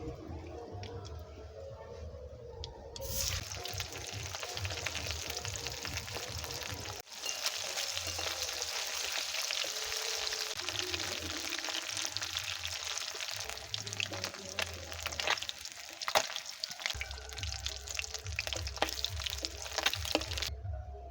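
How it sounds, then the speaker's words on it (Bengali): Small river chela fish frying in hot oil, a steady, fairly quiet hissing sizzle that starts abruptly after a few seconds and runs on with occasional crackles and pan knocks, no voices. "বাকি মাছগুলোও ভেজে নেব।"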